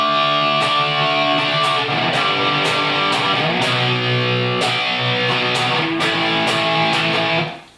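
An overdriven electric guitar chugs a power chord rhythm, loud and close with sharp rhythmic attacks, playing alone before cutting off.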